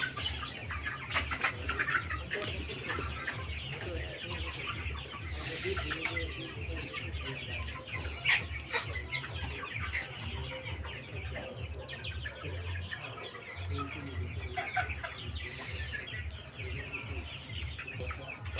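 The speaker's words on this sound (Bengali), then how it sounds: "এখানে 3 মাস বয়সের যে মুরগিগুলো আছে আপনি এখানে চাইলে নিতে পারবেন।" Three-month-old Egyptian Fayoumi chickens cluck steadily on a farm, a soft, continuous chorus of overlapping clucks with a low, rhythmic pulse running underneath.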